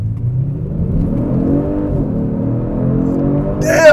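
A 2022 Genesis G70 turbo accelerates hard in Sport Plus mode, its engine note climbing steadily and loud from inside the cabin for the whole stretch, with a brief click near the end.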